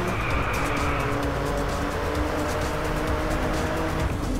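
A BMW accelerating in the racing video game Driveclub, its engine roaring loud and steady with tire noise throughout.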